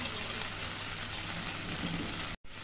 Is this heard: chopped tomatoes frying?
yes